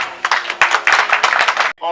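Guests at a wedding reception clapping: a short burst of quick, close, fairly loud hand claps from a small group, with voices mixed in, ending abruptly.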